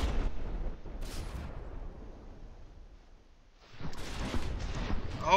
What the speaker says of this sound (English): Those shells landed, but did not manage to get through the armor protecting the front of that turret.